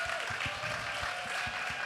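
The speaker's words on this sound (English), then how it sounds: "So round of applause for these incredible panelists." An audience applauds panelists at a women's panel event, steady soft clapping blended into a continuous wash, with a few low thumps under it.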